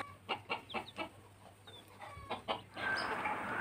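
Village chickens cluck in a series of short, rhythmic calls fairly close by, followed by a brief burst of broader rustling noise at the end.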